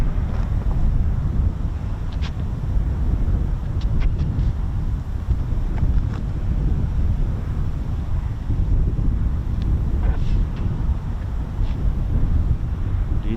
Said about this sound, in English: our wind just picked up just like that.